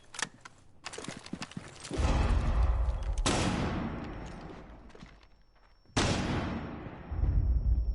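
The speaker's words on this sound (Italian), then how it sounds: "Lontani dall'esplosione!" Loud, booming explosions from Rainbow Six Siege roll out one after another, each with a long rumbling decay, mixed with rapid crackling gunfire near the start.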